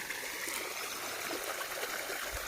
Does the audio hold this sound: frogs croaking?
no